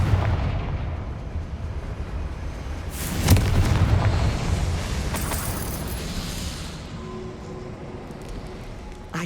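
Confringo fire spell explosion in the Hogwarts Legacy video game, a single loud booming blast around the middle that tails off into a rumbling decay over game ambience.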